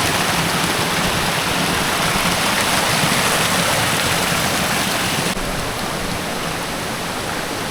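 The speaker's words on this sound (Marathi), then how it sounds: "आता वरून एक ओढा आला आहे." A small stream pours down from above beside a little waterfall, a loud, steady rush of water that runs unbroken throughout and eases slightly near the end.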